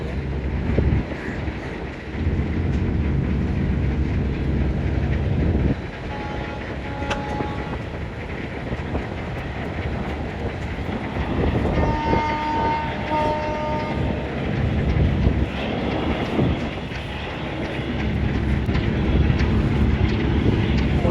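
The Green Line 2 passenger ship is carrying thousands of travellers toward Ilisha while reversing nearby. Its steady, heavy engine rumble and wash fill the air and pass close by and loud, with faint tonal horn-like notes mid-way.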